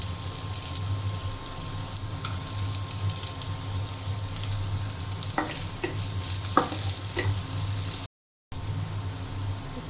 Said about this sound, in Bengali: দিয়ে দিলাম রসুন কুচি, পেঁয়াজ কুচি